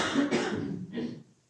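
A person in a church congregation coughs twice in quick succession, fairly close and loud, the second burst trailing into a softer breath before quiet.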